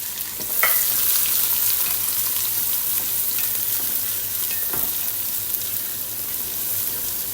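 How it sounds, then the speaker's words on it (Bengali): Chopped onions for chicken kosha fry in a pan with a steady, close hiss and sizzle, broken by a couple of sharp spatula scrapes and stirring clicks. "পেঁয়াজটা একটু ভালো করে ভাজা নিন"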